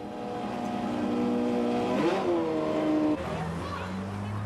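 A 1970s Matra race car engine at the 1994 Tour Auto in France, heard as a steady engine drone with a rising rev change midway, moderately close, under a voice talking.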